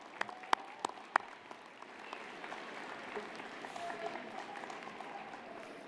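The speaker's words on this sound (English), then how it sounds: "Let's all give the family and friends a round of applause." A university convocation audience in Calgary gives a round of applause for family and friends, opening with a few sharp, separate claps before dense, sustained clapping builds and holds through the end.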